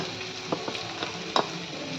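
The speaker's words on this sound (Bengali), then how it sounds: "এরকম লাল লাল করে ভাজবো পেঁয়াজটা ভাজা হয়ে গেছে তেলও ছেড়ে দিয়েছে" Onions frying in oil in a pan until reddish brown, a steady soft sizzle with a few light clicks and scrapes of stirring, close by and fairly quiet, with no voices.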